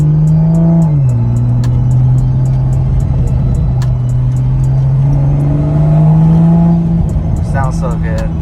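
A 2021 Toyota GR Supra A90 fitted with a Tomei dual titanium exhaust revs up close, holding a loud sustained engine note that dips, climbs and swells again over several seconds.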